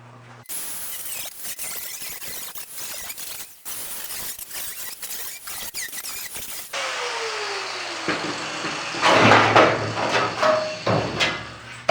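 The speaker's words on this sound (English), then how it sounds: "I'm going to cut out the original wheel arch, what's left of it" A power tool cuts out the rusted, crusty original rear wheel arch of a 1973 car in a series of rapid harsh bursts, followed by a steadier grinding whine and loud scraping metal near the end.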